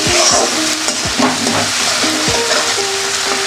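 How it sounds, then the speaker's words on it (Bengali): Spice masala for a fish curry being fried in oil, with a steady sizzle under repeated scraping strokes of a spatula stirring the pan, close and clear, with no voices. "এবার ভালো করে মশলাটা আমি কষিয়ে নেব।"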